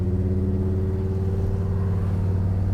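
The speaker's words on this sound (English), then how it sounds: "listen to that exhaust. Man, does it sound good" A deep, rumbling 1971 Chevrolet pickup exhaust burbles steadily at idle, loud and close, with a throaty low-pitched tone and no voices.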